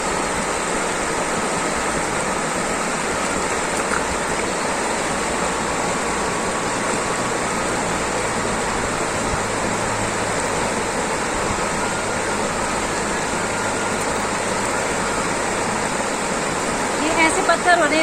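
River water rushes steadily over smooth, slippery stones, a continuous broadband wash that stays loud and unbroken throughout, with no voices over it.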